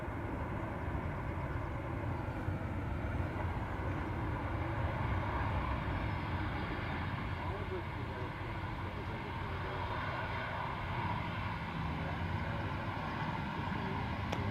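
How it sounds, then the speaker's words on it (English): A Ryanair plane arrives at Dublin Airport, its engines a continuous, broad distant roar that holds steady throughout. "So this is Ryanair in from Kerry, 32-minute flight approximately."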